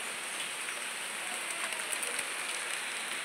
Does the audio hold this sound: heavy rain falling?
yes